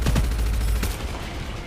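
Bursts of gunfire from a newly picked-up weapon called the pivert in the shooter game Gunfire Reborn: a few sharp, loud shots in quick succession, then a trailing tail of combat noise.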